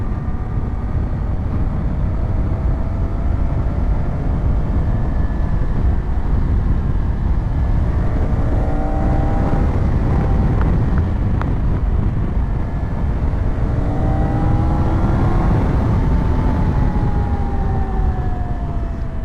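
A 2024 Triumph Tiger 900 Rally Pro adventure motorcycle rides through corners, its engine droning loud and continuous with rising and falling revs and pitch sweeps under heavy wind rush, no talk.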